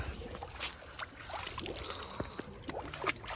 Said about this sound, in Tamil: இங்கே தண்ணி நல்லா வந்துட்டுருக்கு.